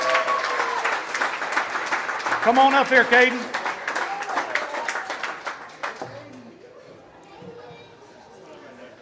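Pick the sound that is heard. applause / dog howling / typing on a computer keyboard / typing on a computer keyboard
applause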